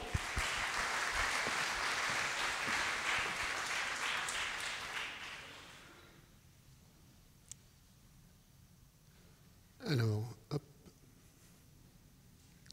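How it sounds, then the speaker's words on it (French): Applause from an audience at a French conference debate on the isolation of elderly people swells for about six seconds, then drops to a quiet room with a few scattered noises and a brief voice-like sound. "On peut l'applaudir pour l'encourager."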